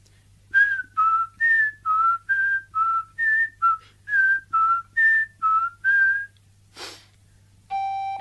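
A person whistles a run of about a dozen short, clear rising-and-falling notes in a steady rhythm, then a brief breathy puff and one longer held tone, close and alone.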